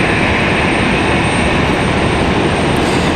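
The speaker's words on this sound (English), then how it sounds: "here comes American Airlines 1894 coming in from Charlotte" An American Airlines Airbus A321 lands at Raleigh Durham airport, its engines a loud, constant broadband roar with no gaps or talk.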